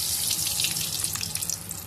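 Mustard seeds crackle and spit in hot oil in a pan while agathi keerai is being cooked, a dense hiss of fine pops and sizzle that carries steadily from start to finish with no talk.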